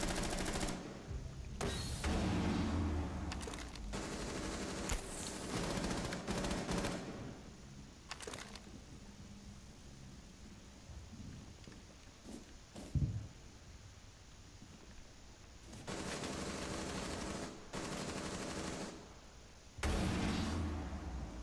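Gunfire in Rainbow Six Siege on the Favela map during a Secure Area team deathmatch: repeated rapid automatic bursts, fairly close, broken by short pauses amid ongoing game noise.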